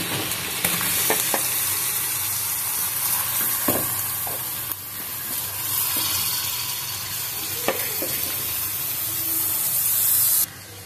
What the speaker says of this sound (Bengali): এবার আমি দিয়ে দিচ্ছি পোলার চালগুলো